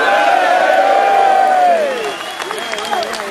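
A large crowd roars and cheers loudly at the mention of Winston Churchill, a dense swell of voices with whoops that fades after a couple of seconds into scattered shouts and murmuring.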